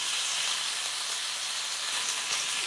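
Grated ginger, green chilli and curry leaves fry in hot oil for an Indian gooseberry thokku, a loud, continuous crackling sizzle with no talk.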